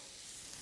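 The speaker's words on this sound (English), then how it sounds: "you can hear kind of that really loud sizzling" Tomatoes hit a hot pan while deglazing, giving a steady, close crackling sizzle across a very short moment with no speech.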